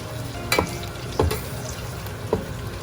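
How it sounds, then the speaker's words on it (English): Masala frying in oil for a Thalapakatti (Dindigul) biryani, a continuous close sizzle broken by three sharp scraping stir strokes at regular intervals, no talking. "Stir the masala well into the oil"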